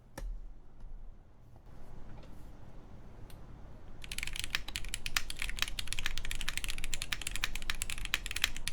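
Typing on a freshly built ESU67 mechanical keyboard: rapid, close clacking keystrokes that start after a quiet stretch and continue in a dense, uneven rhythm, with no talk over them.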